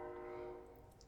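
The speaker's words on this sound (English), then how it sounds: "there's a train blaring" A train horn sounds in one sustained harmonic blare that fades slightly toward the end, fairly distant and alone without talk.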